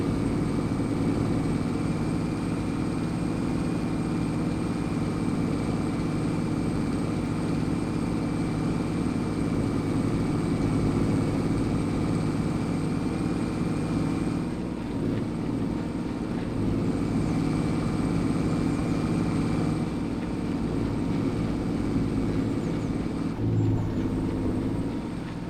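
A Claas machine hitched to a tractor reverses in a farming video game, its engine a steady, loud, continuous drone that holds without a break throughout.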